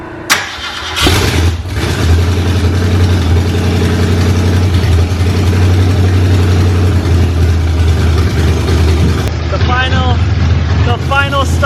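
A 1968 Mustang Fastback V8 cold-starts on open headers: a sharp crank burst, then a loud, rough, steady idle rumbling close by for the rest of the clip, with brief voices near the end.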